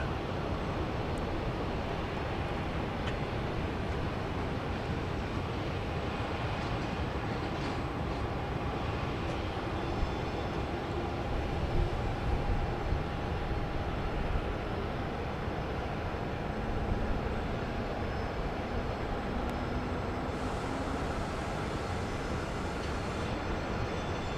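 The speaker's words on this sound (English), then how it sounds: "Flight 711, Southwest Airlines, coming in from San Diego, California. It's a 737-700." A Southwest Airlines Boeing 737-700 lands at Dallas Love Field, arriving from San Diego. A steady, broad jet roar fills the whole stretch at constant loudness, with faint tonal whines sliding underneath and no voices.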